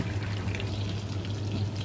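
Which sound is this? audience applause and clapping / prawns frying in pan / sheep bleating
prawns frying in pan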